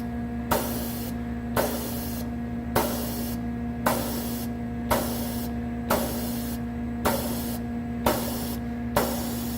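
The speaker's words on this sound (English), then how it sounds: "we press it a good couple times to help it oil down in the machine a little bit." A hand-pressed oil pump on a Schelling FH6 beam saw gives about nine evenly spaced pushes, each a sharp spraying hiss over a constant machine hum, close and fairly quiet with no talking.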